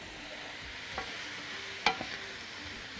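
Meat and onions stirred in a pot for beef and oat soup, a low steady sizzle broken by two brief scraping clicks of the spoon, close and moderately quiet.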